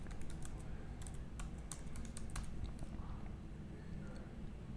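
Light, rapid keystrokes on a computer keyboard typing a search into a desktop mapping program, faint and close over a low background hum.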